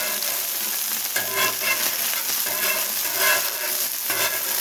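Wagyu smash burger patties sizzling on a 36-inch Blackstone griddle, a loud close continuous frying crackle with occasional spatula scrapes and stirring sounds.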